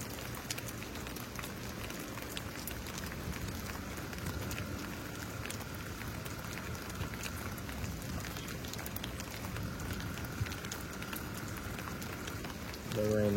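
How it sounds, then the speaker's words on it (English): Rain falls in a steady, soft patter and hiss throughout, fairly faint and even, with occasional louder drops. "The rain is very calming though."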